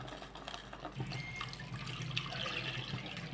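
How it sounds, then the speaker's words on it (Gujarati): Water pours in a soft, steady stream into a cooking pot of boiled coriander-cumin powder and salt, heard faintly but without a break for a few seconds. "આની અંદર નાખશું પાણી"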